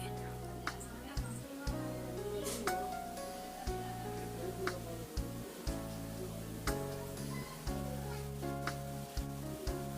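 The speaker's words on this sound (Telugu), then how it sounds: "ఆనియన్స్ అనేది బ్రౌన్ కలర్కి వచ్చేంతవరకు మనం ఫ్రై చేసుకోవాలి" Onions fry in a pan for a tamarind-leaf dal seasoning, giving a steady sizzle beneath a prominent sustained musical backing, with faint crackles scattered throughout.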